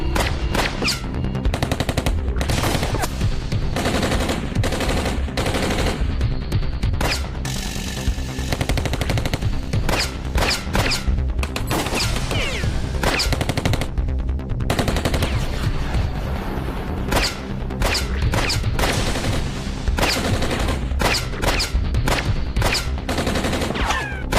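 Dense rapid gunfire from a Tamil TV serial scene at night after an order to fire, with sustained bursts of machine-gun shots and scattered louder cracks filling the whole stretch, continuous and close with no pauses.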